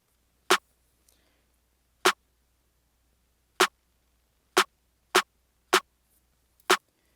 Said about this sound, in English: So I started with this simple clap from Nateco's kit